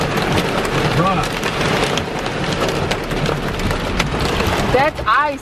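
Hail and heavy rain pelt a car close to a tornado, a dense continuous drumming on the body and glass, with excited voices talking over it.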